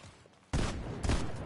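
Shotgun blasts in a shotgun-only video game match: a loud, booming burst of gunfire erupts after a quiet moment, followed by a second heavy blast and sustained rumbling echo.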